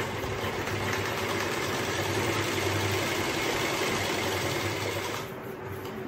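Sewing machine running steadily to stitch a double seam on an old pair of lower trousers, a continuous close, loud mechanical whir with a low rhythmic hum that eases off near the end.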